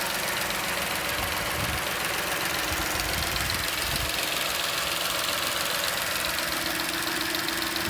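A 2007 Ford Edge SEL idles steadily, giving a continuous, fairly loud mid-pitched engine drone with a faint ticking texture. No voices are heard.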